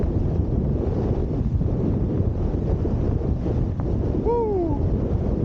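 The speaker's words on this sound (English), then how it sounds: "It is gusty as all get out." Gusty wind roaring over the microphone while wing foiling on open water, a loud constant rumbling buffet that masks everything, with a brief whistling whoop near the end.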